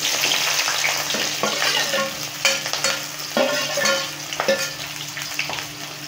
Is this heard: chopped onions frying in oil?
yes